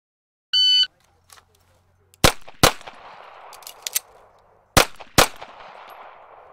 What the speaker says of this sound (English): fire 2 more shots within 10 seconds total